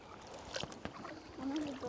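Water sloshes and laps around a small boat on the Norfolk Broads, with faint splashes and a low hum of activity in the background.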